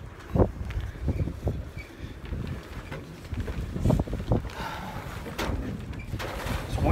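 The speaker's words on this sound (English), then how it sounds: "It's windy today." Gusty wind on a hilltop viewpoint along a thru-hiking trail, buffeting the microphone in uneven low rumbles and bursts that swell and ease without any talk.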